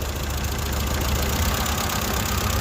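A 2016 Fax Xpv car engine running rough with one cylinder disconnected, a steady uneven idle with knocking pulses heard close and continuous, no speech over it.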